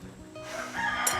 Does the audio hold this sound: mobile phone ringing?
no